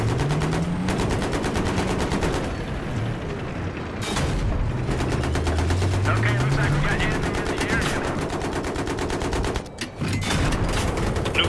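Rapid automatic gunfire and scattered shots from a 64-player online war game battle, loud and nearly continuous throughout with dense layered bursts, a brief lull near the end.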